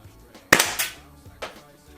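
A WE M4 gas blowback airsoft rifle fitted with an aluminum nozzle fires a single shot, a sharp close crack with a short clattering tail, followed by a fainter mechanical snap a second later.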